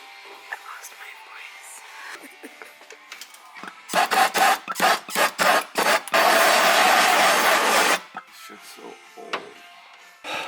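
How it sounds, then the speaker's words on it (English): A razor blade scrapes adhesive off the body panel of a 240SX hatchback in a shop at night, with a run of short rasping strokes and then one long continuous scrape, loud and close, with quiet whispery voices around it. "I've literally been scraping it with a razor blade like this"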